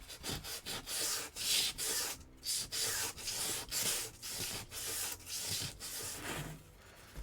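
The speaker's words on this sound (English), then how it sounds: "Sanding." Wood being hand-sanded in steady, rhythmic back-and-forth strokes, close and fairly loud, each rasping pass separated by a brief pause, with no talking.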